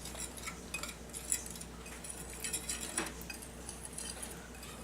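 Gluten-free flour and white corn flour with baking powder are stirred in a bowl, giving soft clinking and scraping of a utensil against the dish, quiet and fairly continuous.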